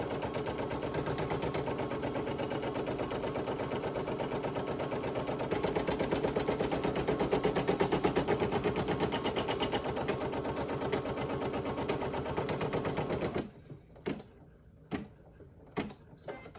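Embroidery machine sewing a tack down stitch around fabric applique, a fast steady mechanical needle chatter running loud and continuous, then stopping abruptly into a few scattered clicks and knocks.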